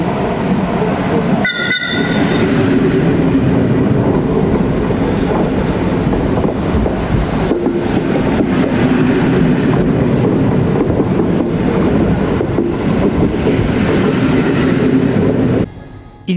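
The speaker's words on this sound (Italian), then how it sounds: "Il transito dell'ETR 252 Arlecchino a Genova Piazza Principe ci fa fare un salto indietro nella storia" An ETR 252 Arlecchino historic train passes through Genova Piazza Principe station, a loud, sustained roar of the passing train with a brief horn-like tone near the start and rail noise that drops off abruptly at the end.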